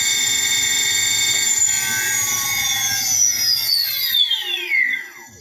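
Electric bike hub motor spins freely with a high, steady whine that holds and then glides downward as it winds down, close and clear with no knocking.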